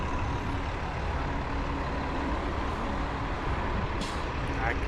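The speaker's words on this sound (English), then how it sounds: "I can notice here the bus is stopping," City bus stopping in downtown Sudbury traffic in spring, with a steady, loud roar of engines and road noise throughout and a brief hiss of air brakes near the end.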